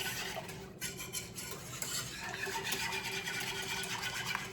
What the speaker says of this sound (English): we just want to give this a nice whisk to ensure that there are no lumps